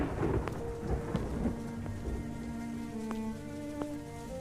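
Steady rain falling on a riverside path with a dense, broadband hiss, accompanied by low rumbling like distant thunder throughout.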